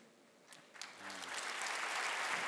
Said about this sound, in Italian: Riccardo, hai già preso il secondo applauso, questo spontaneo della serata